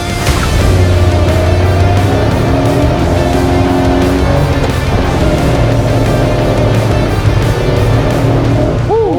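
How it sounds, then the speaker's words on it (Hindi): An 80 bhp petrol SUV, a three-seater, accelerates hard from standstill toward 60, its engine note climbing loud and continuous through rising gear pulls, with road and tyre noise close inside the cabin. "देखते हैं इसकी 0 to 60 कितनी देर में होती है।"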